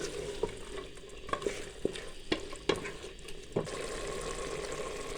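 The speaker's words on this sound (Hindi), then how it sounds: "अच्छी तरह इसकी हम बुनाई कर लेंगे।" Potatoes and minced meat stir-fried together in a pan for dhaba-style aloo qeema, sizzling steadily with sharp scraping stirs of a spoon every half second or so.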